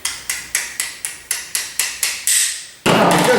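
Brass hammer tapping a pin into a J.C. Higgins Model 10 rifle bolt: nine sharp, evenly spaced metallic taps close up, followed by a louder sustained scraping burst at the end.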